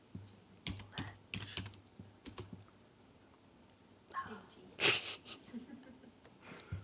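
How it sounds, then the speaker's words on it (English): Irregular bursts of keystrokes on a computer keyboard during a library research workshop, clustered in short flurries with pauses, close and moderately loud, with a brief sniff or breath partway through. "I'm not having a very good day typing things today."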